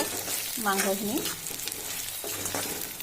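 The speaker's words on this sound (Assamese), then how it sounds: "এই সময়টো বহুত ভালকৈ লৰাব লাগিব, কাৰণ নহ'লে কেৰাহীখনত তলিত লাগি যায়গৈ" Mutton pickle masala being stirred and fried in a karahi, with a steady close sizzle and scraping stirring sounds running through the whole stretch, no talking.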